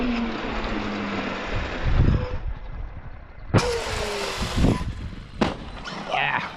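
A Traxxas Maxx Slash 6s RC truck runs close by, its electric motor whining through broadband rumble and rising in pitch as it speeds up, with sharp bursts where it lands and scrabbles over the ground.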